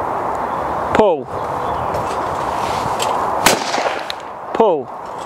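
A hammer shotgun fires at clay targets on an outdoor shooting ground, with a sharp report cutting through steady ambient noise while people talk nearby.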